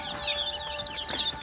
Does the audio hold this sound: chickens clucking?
yes